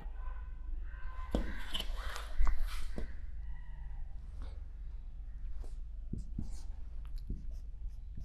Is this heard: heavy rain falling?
no